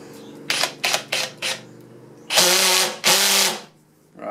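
A ToolPRO 18V hammer drill drives 14 gauge batten screws: four short whirring bursts, then two longer, louder runs as a screw is driven in, heard up close with brief pauses between.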